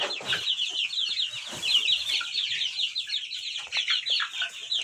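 Freshly hatched Australorp chicks from an incubator cheep in a dense, continuous chorus of high, rapid peeps, close and loud with no talking.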